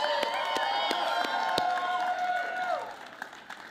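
A show audience claps and cheers for a guest, with whoops and tonal shouts rising over steady applause. The noise fades out after about three seconds, leaving a few stray claps.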